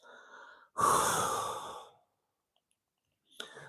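A deep breath out during a seated chair workout for seniors, one long loud close exhale that fades over about a second, followed by silence and then the start of a faint further breath.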